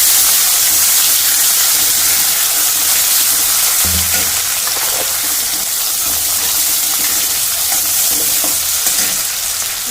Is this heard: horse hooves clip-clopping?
no